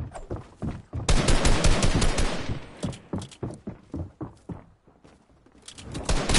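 Video game gunfire breaks out in bursts of rapid shots. Repeated thumping blasts come through with short pauses between them, loud and close, and no one speaks over them.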